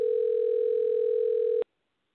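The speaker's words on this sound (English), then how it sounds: "A phone is ringing, that's for sure." A steady, continuous telephone tone is heard on a conference call, loud and alone, holding for about a second and a half before cutting off abruptly into silence.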